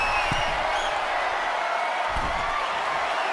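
A video game arena crowd in WWE 2K24 roars as a steady, wash-like wall of noise through the whole stretch, with a few faint low thumps underneath.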